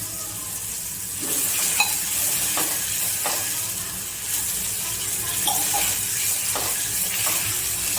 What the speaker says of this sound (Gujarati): હવે આપણે થોડું પાણી નાખીશું.